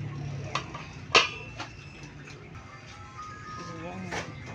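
A lid is set onto a cooking pot of water during home cooking, giving one sharp metallic clank among a few lighter clinks of cookware, with no talk.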